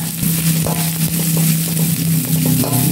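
Spring onion, lime leaves and chilli sautéing in a pan give off a steady, close, dense sizzle with faint crackles throughout and no talking.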